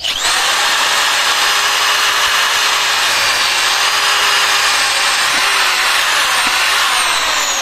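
Electric drill machine boring a hole, a loud, steady high whine with grinding friction that holds without a break for several seconds, very close.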